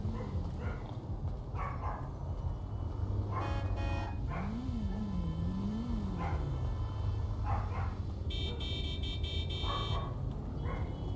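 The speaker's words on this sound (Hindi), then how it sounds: "मारा कुत्ता भौंकर गया है बहुत" A dog in a GTA 5 roleplay game barks in several short bursts over a constant low hum, with a buzzing electronic tone near the end.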